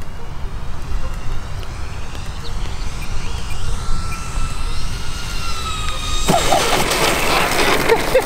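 An Avios C-130 Hercules V2 RC model airplane comes in to land with gear down and full flaps, its electric motors whining steadily over outdoor wind noise, rising in pitch and growing louder near the end.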